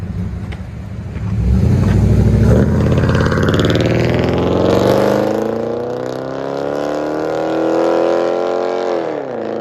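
A loud 5.7-liter HEMI V8 in a 2012 Jeep Grand Cherokee revs hard through Flowmaster Outlaw mufflers with rear delete and 4.5-inch tips, the deep rumbling pitch climbing and holding high before dropping back to a throaty idle.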